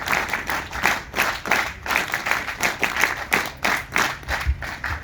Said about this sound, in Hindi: इनके लिए तालियां कौन बजाएगा?